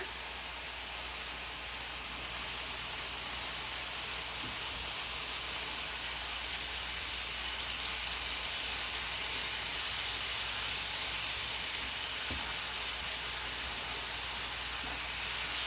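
Steady, broad hiss of steam rising from a hot pan of cooked chicken breast, continuous and even, with a couple of faint low knocks underneath.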